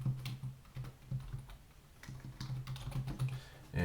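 Computer keyboard typing while entering decimal numbers into a math homework system, a close, steady stream of soft clicking keystrokes with brief pauses, no talking.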